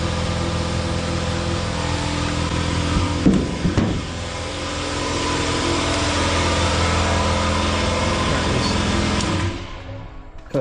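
An air compressor inflating a plugged flat tire, a loud steady mechanical drone with strong low hum and buzzing overtones, a few clanks and rattles early on, running continuously before winding down at the end.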